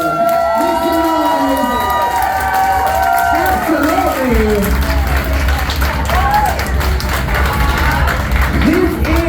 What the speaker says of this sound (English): I think that you all deserve a massive round of applause for your winner.